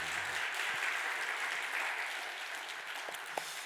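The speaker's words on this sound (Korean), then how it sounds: "박수" Church congregation applauding during a Sunday worship service after a wedding announcement, a steady wash of clapping heard from a distance in a large room and fading slightly toward the end.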